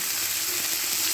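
Chopped tomato frying in oil in a pan for a Tamil vegetable kurma, a steady close broadband sizzle that holds level throughout with no talk.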